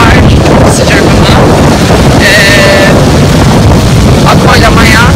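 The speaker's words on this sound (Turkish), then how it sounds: "çok rüzgar var" Strong wind battering the microphone on a surf beach in Sydney, Australia, a loud continuous roar and buffeting with faint voices and water sounds underneath.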